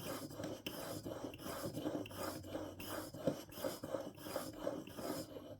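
A curved broadhead being sharpened on a KME sharpener, with rhythmic rasping strokes of steel across a hone, about a dozen quick back-and-forth scrapes, close and quiet.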